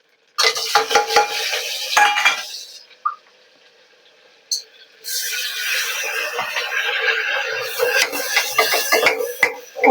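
Spices roast in hot oil with garlic and onion in a pan, a bright sizzle with the clatter and scrape of a metal spoon stirring, pausing briefly midway before resuming loudly.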